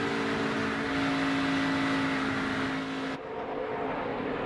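ARCA stock race cars circle Michigan International Speedway in a continuous, moderately loud engine roar with a sustained tone, which cuts off abruptly near the end into a duller hum.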